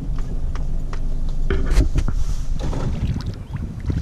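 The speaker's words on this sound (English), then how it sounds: "Out on the lake for a spot of kayaking." Kayak paddling out on Lake Wanaka, a steady wash of water and wind noise with soft splashy strokes close to the microphone, moderately loud and continuous with no talk.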